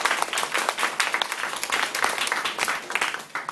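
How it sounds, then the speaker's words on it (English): A Toastmasters club audience gives a speaker a round of applause, brisk and even clapping from a modest room crowd with crisp individual claps standing out over a continuous patter. "Let's give her a hand of applause."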